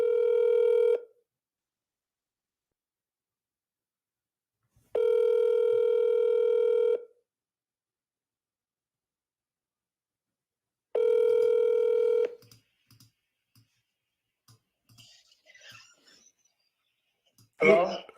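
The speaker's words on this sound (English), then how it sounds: "Why don't you answer your phone when I try to call you?" A phone line gives three long ringback tones separated by silent gaps, then faint clicks and a brief burst of sound as the call connects.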